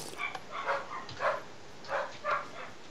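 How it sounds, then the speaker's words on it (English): Several dogs barking in a room, faint and somewhat distant, with four or five sharp barks spaced irregularly over about three seconds. "My dogs are really loud."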